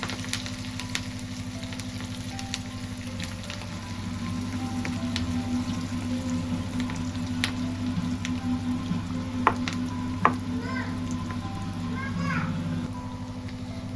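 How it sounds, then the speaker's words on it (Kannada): Food frying in hot oil while being turned in a pan, a steady close sizzle running throughout with occasional clinks, a voice and other talk faintly in the background. "ಈ ಥರ ತಿರ್ಗಿಸ್ಕೊಂಡು ಫ್ರೈ ಮಾಡ್ಕೊಳ್ಳೋದು"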